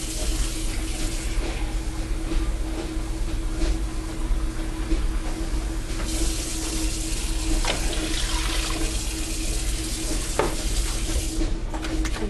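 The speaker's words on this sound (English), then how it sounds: "Now, I'm going to add 2 cups of water." Tap water runs steadily into a cooking pot of New England clam chowder, a continuous loud rushing splash with a light sizzle underneath and no talking.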